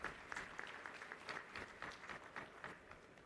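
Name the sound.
applause at convocation ceremony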